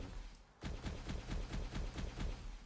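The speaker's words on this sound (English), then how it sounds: "if I was to start firing" Rapid automatic weapon fire from an Unreal Engine 4 animation demo, a steady burst of evenly spaced shots that starts abruptly after a short quiet lead-in and carries on close and loud to the end.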